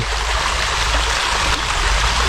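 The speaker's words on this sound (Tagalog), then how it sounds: "Maganda ito, itong ilog dito pagliguan." A mountain river in Luzon rushes steadily over rocks and rock formations, a continuous close wash of flowing water with no voices.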